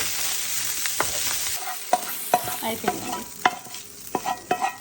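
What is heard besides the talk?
rice with ginger and garlic frying and being stirred in pan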